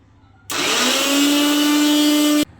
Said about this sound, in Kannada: ಮಿಕ್ಸಿ